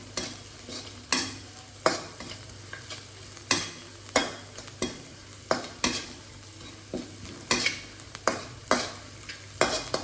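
Spice paste for nasi goreng stir-frying in a pan, a steady sizzle punctuated by about a dozen rhythmic spatula scrapes and clacks, close and with no talk.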